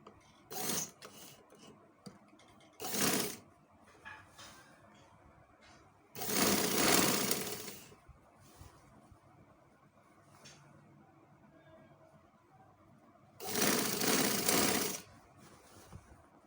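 An electric sewing machine stitches a kameez sleeve in several separate bursts, two short runs and then two longer whirring runs, close and fairly loud, with quiet handling of fabric between.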